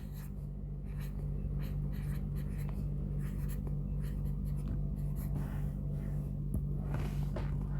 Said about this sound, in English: So I can write it here.